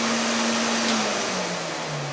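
A floor scrubber's vacuum line runs steadily during floor stripping, a constant loud whirring suction drone with a low motor hum that sags slightly in pitch, no voices over it.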